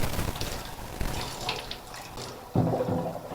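Tap water runs and splashes while soaked seeds for parrots are rinsed in a container, a quiet continuous flow with a sudden louder gush near the end.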